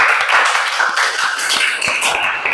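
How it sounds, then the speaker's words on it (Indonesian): A class closing a project session claps together, producing a brisk, continuous patter of many hands with quick, uneven claps, fairly loud and near. "Tepuk tangan sekali lagi untuk semangat kita semua."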